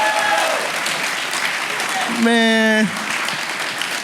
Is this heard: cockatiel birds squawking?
no